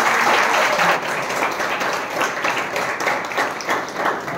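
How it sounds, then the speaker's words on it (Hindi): A congregation applauds during a Hindi sermon. The clapping is dense and steady, a loud crowd of many hands sustained throughout with no voices over it. "ताली बजा करके"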